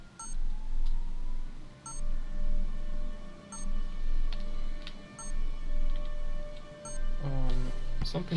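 Periodic beeping in the video game Telltale's Batman: short, evenly spaced electronic beeps repeat roughly every 1.7 seconds over a pulsing low background hum, with no talking.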